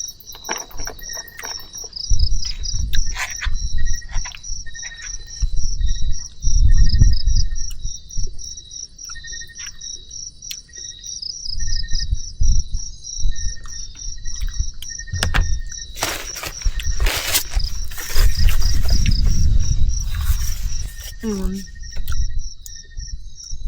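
Crickets chirp steadily at night at a mountain campsite overlooking the city lights of Batangas, a continuous high trill throughout, with occasional clinks, footsteps and other camp noises.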